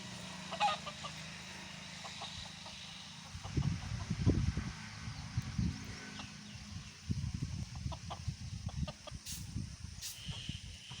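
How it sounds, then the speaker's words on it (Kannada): A peahen in a backyard gives repeated honking calls in short uneven bursts, moderately close and fairly loud, with quiet outdoor background between the calls. "ಇದು ಹೆಣ್ಣಿನ ನವಿಲು"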